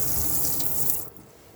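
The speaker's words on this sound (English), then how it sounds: "Once you've got water through to every tap" Water runs steadily from a tap in a 2019 Adria Alpina Colorado caravan, a close, continuous rushing flow with no talk that eases off and quietens near the end.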